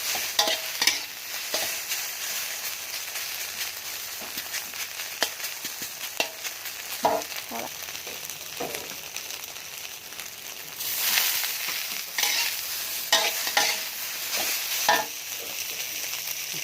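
A soft-batter oyster omelette fries in a hot pan, giving a loud, steady sizzle broken by repeated scrapes and clacks of a spatula stirring and flipping. The crackle swells in the second half.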